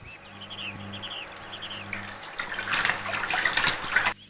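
Water splashes and runs while a vehicle is washed at an outdoor spot, starting quietly and swelling into louder, busier spraying before stopping abruptly, with faint bird chirps early on.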